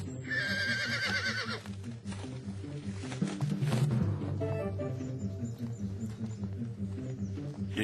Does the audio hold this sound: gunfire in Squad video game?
no